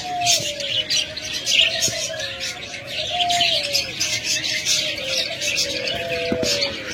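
Pet budgerigars, a pair of albino and lutino birds, chirp and tweet steadily near at hand, with repeated short sweeping calls over a busy chatter of other birds in the background.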